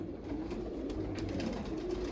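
A 20-year-old pigeon coos softly and steadily, low and continuous, alone with no talk.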